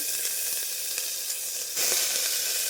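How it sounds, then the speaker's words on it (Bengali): Whole bay leaves, cinnamon and cumin seeds sizzling in hot oil, joined by onions, for a loud, steady, close frying hiss that swells sharply partway through as more goes into the pan. "গরম তেলে দিয়ে দিলাম গোটা তেজপাতা দারচিনি একটু গোটা সাদা জিরা"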